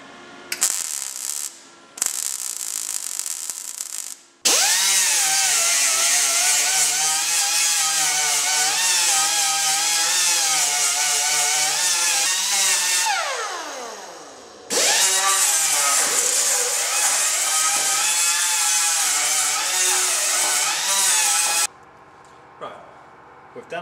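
An angle grinder grinds down a MIG weld on a repaired car mudguard: a loud, sustained high-pitched whine that wavers with pressure, stops briefly, then restarts for several more seconds before cutting off.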